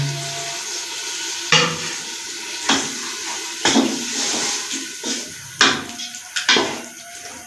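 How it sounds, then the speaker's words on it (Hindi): Dal is stirred into frying spices in a pan on a kitchen stove, with spoon scrapes and knocks against the pan at an irregular pace over a steady sizzle, close and fairly loud, with no talking. "दाल को अच्छी तरह से मसाले में पहले मिक्स करेंगे।"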